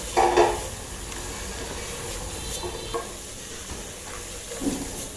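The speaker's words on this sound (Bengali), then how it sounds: "এখন এগুলো আবার আদা রসুন পেঁয়াজ বাটার সাথে ভালো মতো কষিয়ে নিচ্ছি" Spices being sautéed with ginger, garlic and onion paste for an egg korma, a soft continuous sizzle with a few light stirring clinks and scrapes, fairly quiet and without talk.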